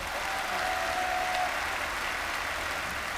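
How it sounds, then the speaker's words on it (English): Studio audience applause on a British TV variety show, greeting a snake expert: steady, dense clapping that fills the whole clip at even loudness, with no voices. "Ladies and gentlemen, a round of applause for our snake expert, Jim Cole."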